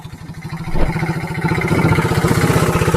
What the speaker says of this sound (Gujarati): રિક્ષો ભરાઈ ગયો ભાઈ ધકધક થતો આયલો આવે છે